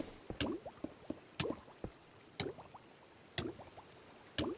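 Water in a Minecraft game, quiet dripping and splashing blips that come in a regular pattern about once per second, each a short wet cluster.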